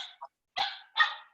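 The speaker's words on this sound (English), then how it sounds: "sorry about my dog barking." A dog gives a few sharp barks close by, a quick yip followed by two louder barks, in an otherwise quiet room.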